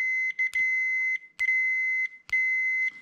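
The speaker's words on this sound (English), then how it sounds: "I've got a meter here that's measuring continuity." Continuity meter beeping as its two probes touch while an RV refrigerator's thermostat gas valve is being tested, three steady electronic tones each lasting under a second, close and loud, with faint clicks of contact between them and no voices.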